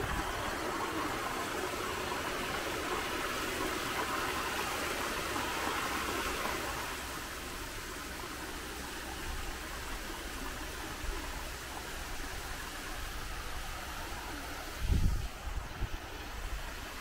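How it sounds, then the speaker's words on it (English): Steady broadband rush of water from a waterfall in St. Annes, continuous and fairly loud throughout with no talk, a brief low thump near the end. "Another waterfall there."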